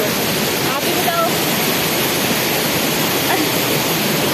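A waterfall at McLeodganj gives a loud, steady, full roar of crashing water throughout, close by and unbroken, drowning out other sounds.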